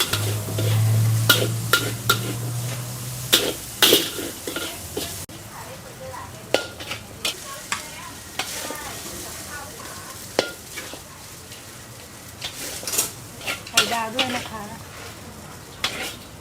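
Kaprao fried rice being stir-fried at a Bangkok street stall, a steady loud sizzle with repeated sharp clanks of a utensil against the wok, close by.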